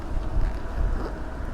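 Wind buffets the microphone, producing a continuous low, rumbling roar that swells and eases slightly.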